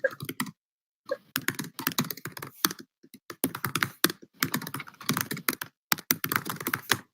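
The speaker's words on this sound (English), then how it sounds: "Thank you so much for the typing ASMR." Computer keyboard typing performed as ASMR during an online convention closing ceremony: rapid, loud bursts of close key clicks in uneven runs separated by brief pauses, with no voices.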